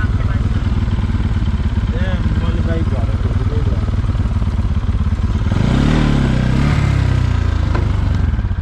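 A motorcycle engine runs close and loud throughout with a steady throbbing drone that swells toward the end, while someone talks over it.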